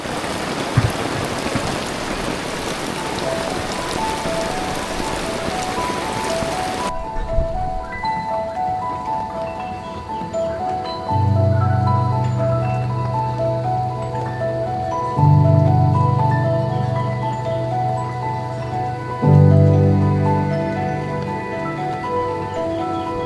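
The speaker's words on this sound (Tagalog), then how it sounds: "Sarap ng ulan." Heavy rain pours at a country club during the rainy season, a loud, steady hiss for the first seven seconds before it cuts abruptly to music.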